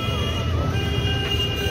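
Road traffic stuck at a red signal in Kolkata, a steady low rumble of idling engines with a faint hum above it, continuous and fairly close throughout.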